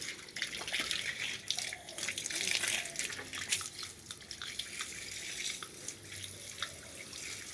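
Tap water runs steadily into a bathing area, with splashes and drips as someone bathes in cold water, a continuous close hiss with faint voices under it.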